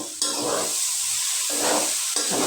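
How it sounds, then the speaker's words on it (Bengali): Leafy greens frying in oil in a pan while being stirred, loud steady sizzle and hiss broken by repeated scraping sweeps of the spatula, close up with no talk. "ভালো মতো নাড়াচাড়া করলাম।"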